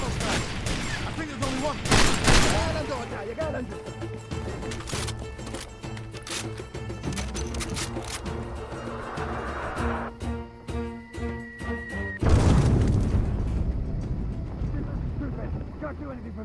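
Video game combat with heavy bursts of gunfire and a grenade blast, loud and close. Rapid shots rattle at the start, sustained fire follows, and a big explosion booms near the end, while a voice talks briefly over the noise.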